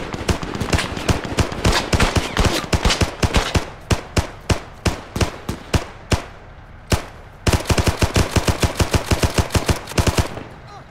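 Dense gunfire in an Arma 3 World War II simulation battle: rapid machine-gun bursts and sharp shots crackle close and loud, with a brief lull before another long burst.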